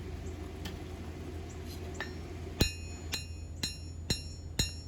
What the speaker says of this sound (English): I'm using the edge of the anvil to hammer those bevels in